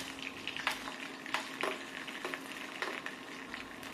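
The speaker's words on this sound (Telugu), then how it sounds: "ఒక చిన్న టీ స్పూన్ జీలకర్రను వేసుకుని కాసేపు అంటే జస్ట్ అలా వేగనివ్వాలి అలాగే రెండు టీ స్పూన్ల ఆవాలు మరియు రెండు పచ్చిమిర్చి చీరికలను వేసుకుని మరి కాసేపు వేగనివ్వాలి" Cumin, mustard seeds and slit green chillies fry in hot oil for a chicken fry, giving a steady close sizzle broken by crackling pops and the scrape of stirring.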